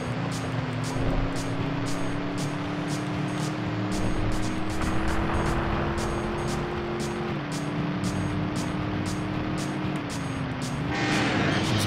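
A car engine in the driving game Driver 2, held at full throttle, drones loud and steady with a sustained tone that shifts slightly in pitch, over rapid regular ticking clicks.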